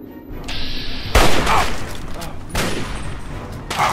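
Gunfire in Fallout 3: a few loud, sharp shots with heavy booming tails, spaced apart over a low game background.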